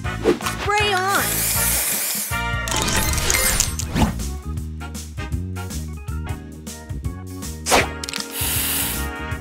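Spray booster effect in the Match Masters mobile puzzle game: a hissing spray burst among crackling, clinking and whooshing game sounds, with cheerful music and an announcer-style voice over it.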